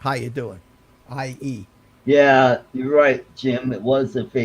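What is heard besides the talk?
No everyday noise stands out behind the speech.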